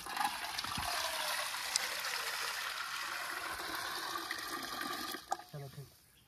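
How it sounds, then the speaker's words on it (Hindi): Clear river water flows swiftly past a riverbank cooking spot, a steady close rushing and trickling that fades near the end after a few brief splashes. "ये देखो कितना क्रिस्टल क्लियर पानी है यार, बहता पानी है, पानी इधर से आ रहा है और वो उधर एग्जिट कर रहा है"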